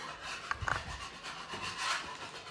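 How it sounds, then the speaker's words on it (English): Old cement is scraped off a window sill, giving a close, rough rasping of a tool dragged across the surface, with a few sharper scratches partway through. "Scrape all this off."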